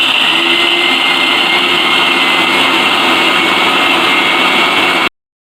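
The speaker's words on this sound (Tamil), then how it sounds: "இதை நல்லா கொரகொரன்னு அரைச்சி எடுத்துக்கலாம்." A kitchen mixer grinder runs steadily and loudly while coarsely grinding chopped banana stem with no water added, a continuous high whirring motor drone that stops abruptly near the end.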